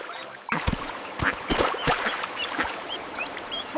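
Cartoon ducks quack in a quick, irregular series of short calls, fairly close, in an animated nursery song about five little ducks.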